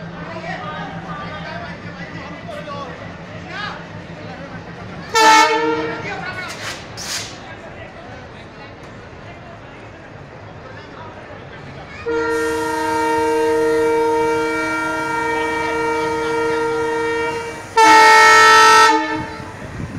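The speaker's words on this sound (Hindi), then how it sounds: "बचे हुए यात्रियों और डिब्बों को ग्वालियर रेलवे स्टेशन की तरफ ले जाती हुई सहायता गाड़ी।" Relief train hauling surviving passengers and coaches toward Gwalior railway station after a fire on the AP AC Express, with two loud horn blasts sounding nearby between steady rumbling and voices.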